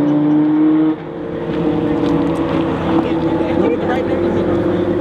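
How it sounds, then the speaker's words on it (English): Lamborghini Gallardo Valentino Balboni edition sports car droning loud and steady on the Texas Motor Speedway track, the engine pitch wavering as it runs at speed, with talk over it. "you can take six laps on a beauty like this."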